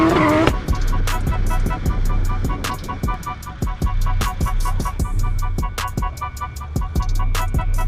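A drift car at a Haapsalu drift event slides through a corner with tires squealing and the engine revving, marked by repeated sharp bursts and pops over a steady engine roar.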